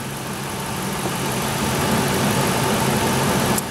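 A car engine idles steadily nearby while warming up during an idle air control valve test, a continuous low rumble with a faint even hum and no talking.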